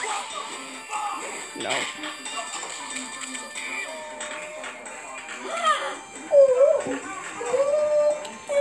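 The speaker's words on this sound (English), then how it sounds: "because I know that puppy got hurt." A hurt puppy whimpers in high, thin, wavering whines that grow louder toward the end, with people talking over and between the cries.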